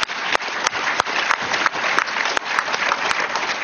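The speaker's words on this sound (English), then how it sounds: "Oh, that was just a gimme applause." Audience claps in a sustained burst of applause, with a few sharp individual claps standing out over the steady patter, heard fairly close.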